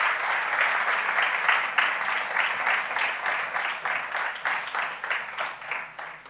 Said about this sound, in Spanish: un fuerte aplauso también para el pescado